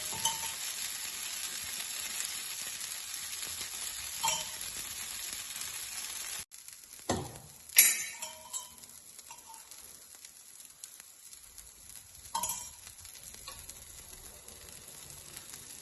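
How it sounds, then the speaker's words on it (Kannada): Ade dosa frying in a pan with a steady sizzle, then an abrupt break and a sharp scrape as it is flipped, followed by quieter sizzling with occasional clinks as oil is added. "ದೋಸೆ ತಿರುಗಿಸ್ತಾ ಇದ್ದೀನಿ. ಚೂರು ಎಣ್ಣೆ ಹಾಕ್ತೀನಿ"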